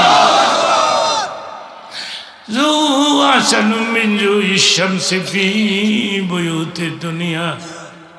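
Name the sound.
crowd responding to takbir call with chant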